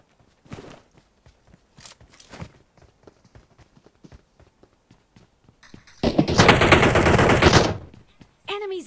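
Gunfire in a battle royale video game, scattered footsteps and light clicks, then a loud sustained burst of rapid automatic fire, followed by another short burst at the end.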